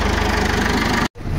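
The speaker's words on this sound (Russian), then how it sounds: "Сейчас едем кататься на тракторе." Tractor diesel engine running steadily with a low rumbling idle and rhythmic knocking pulse, close and loud, cutting out abruptly near the end before resuming.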